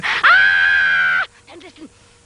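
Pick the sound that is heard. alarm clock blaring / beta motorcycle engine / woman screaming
woman screaming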